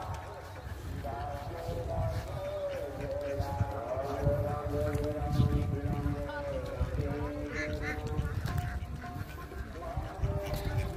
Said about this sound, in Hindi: कितना सारा बत्तख।